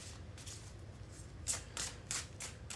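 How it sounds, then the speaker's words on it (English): Tarot cards are shuffled close by, a quiet series of quick papery riffling bursts in an uneven rhythm, a few slightly louder flicks toward the end. "All right, 3 more shuffles."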